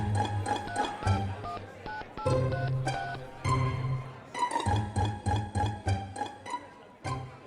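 A run of quick electronic tones in short bursts with brief gaps, like number keys being pressed on a landline phone, loud and close.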